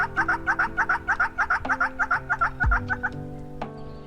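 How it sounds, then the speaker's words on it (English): An African yellow-billed hornbill calls in a rapid run of nasal clucking notes that keeps a steady rhythm for about three seconds and then stops. A few faint tonal bird notes sound in the background. "African yellow-billed hornbill."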